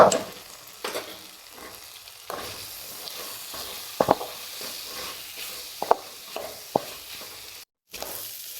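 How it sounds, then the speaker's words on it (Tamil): Capsicum and spices sauté in a hot pan with oil, giving a steady close sizzle broken by scraping stirs and short clicks of a spoon against the pan. "சேர்த்து நல்லா வதக்கி விட்டுக்கலாம்"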